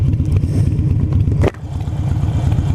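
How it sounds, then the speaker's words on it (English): A Harley-Davidson Sportster with Vance & Hines aftermarket pipes idling nearby, a loud, lumpy low throb with a steady uneven pulse and a single sharp clack in the middle. "even just sitting here idling, it's just a great sounding bike"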